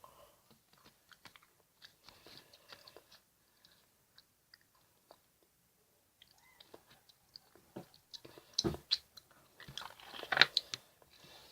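Jelly candy being chewed up close, with soft wet smacking and crunchy bites that start faint and sparse, then grow louder and more frequent in the second half, with no talking.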